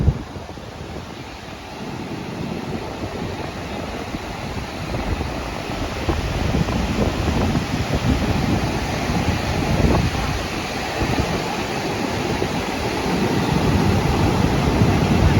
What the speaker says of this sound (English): These are the heavy winds.